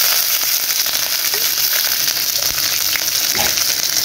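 Fried onions in a pan sizzle loudly and steadily after water is added, a dense continuous hiss with faint crackles throughout, close and uninterrupted.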